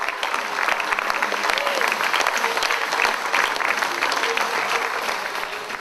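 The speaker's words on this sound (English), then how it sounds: "ladies and gentlemen, a special round of applause, please" Dense, sustained applause from a large audience at a community pride awards evening fills the whole stretch, steady and loud before easing slightly at the end.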